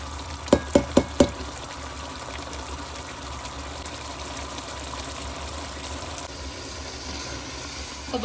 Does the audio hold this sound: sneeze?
no